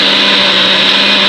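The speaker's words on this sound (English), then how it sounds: "I'm going to go ahead and add 4 cups of water, and I'm going to go ahead and blend this." A blender blends tomatoes and water steadily at high speed, a loud continuous whirring roar that fills the whole short stretch without pause.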